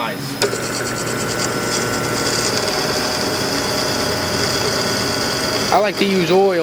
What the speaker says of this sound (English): now we're going to drill these holes all the same size